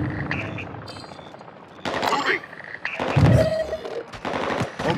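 Call of Duty Modern Warfare 2 DMZ gunfire on Ashika Island comes in bursts of rapid shots with explosions and debris, mixed with game voices shouting and sound effects.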